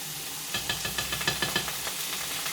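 Onion and ginger paste sizzling in a pan during a vegetarian cookery class, a soft steady hiss with a quick run of light scraping and tapping strokes as it is mixed, quiet and close.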